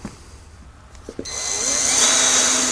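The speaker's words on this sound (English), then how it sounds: "Let me start drilling some holes." A power drill spins up and runs steadily with a high whine, close by, drilling holes in MGA car floorboards, after a couple of brief clicks and handling knocks.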